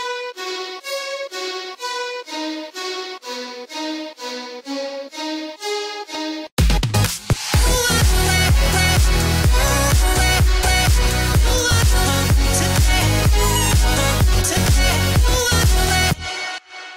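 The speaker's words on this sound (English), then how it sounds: "there is a violin, which I'm gonna search for where it is" A violin melody from a remix plays alone as a clear line of stepped notes, then the full dense, beat-driven mix crashes in loudly at about six and a half seconds and carries on.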